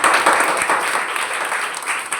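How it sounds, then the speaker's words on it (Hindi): Students in a classroom give a short burst of dense, lively applause for a classmate, loud and close. "ताली बजाओ इसके लिए।"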